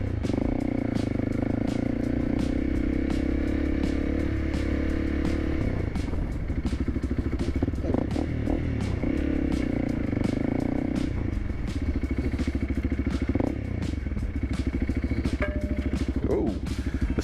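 Honda CRF 300L dual-sport motorcycle riding down a dirt trail, its engine droning steadily and close with rattles and clatter over the ground the whole way through.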